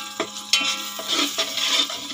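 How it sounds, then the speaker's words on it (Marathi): Onion, butter and ginger-garlic paste hit hot fat for a pav bhaji tempering, giving a close, steady sizzle with a few stirring scrapes and clinks of a pan. "आधी कांदा टाकला आणि बटर आणि मग आलं लसणाची पेस्ट टाकली आणि असं फोडणीला टाकलं"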